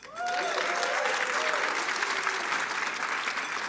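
A crowd applauds former deans at the 60th anniversary celebration of UGA Social Work, the clapping swelling in quickly and holding as a dense, even roar, with a brief tonal sound at the start.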